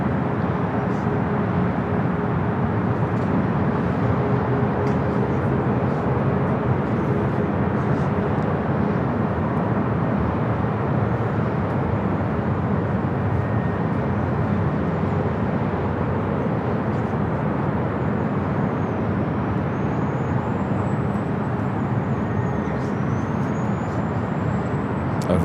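An Air China airliner at Los Angeles International Airport taxis for takeoff. A constant broadband engine roar and rumble holds steady and fairly loud throughout, with a faint rising whine near the end.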